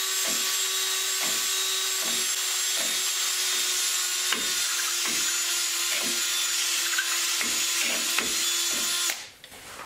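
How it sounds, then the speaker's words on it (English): Brake parts for an Oliver parade wagon being rubbed together for full contact: a steady run of close scraping strokes at a regular rhythm, about two per second, ending in a rougher scuff. "what I'm doing there is rubbing it around in different places and making it make contact all the way around"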